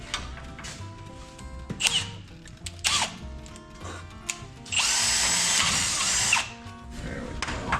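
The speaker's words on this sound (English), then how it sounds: "I think this old drill's wearing out." An old, worn-out power drill whirs in several short bursts, then runs in one sustained, harsh, louder spell before winding down, heard close up.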